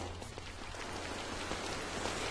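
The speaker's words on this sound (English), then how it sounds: "And it's raining on us." Steady rain in the video game Don't Starve patters on a surface, a soft continuous hiss with scattered drops and a low hum beneath, faint and unbroken.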